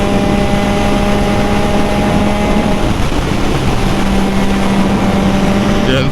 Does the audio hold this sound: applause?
no